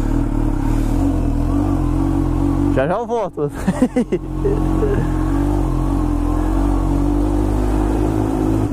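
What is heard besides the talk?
Kawasaki Ninja H2 motorcycle engine revving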